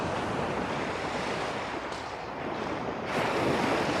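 Ocean waves on a rocky beach make a close, steady wash of surf noise, dipping briefly and then surging louder as a wave breaks, with wind rushing across the microphone.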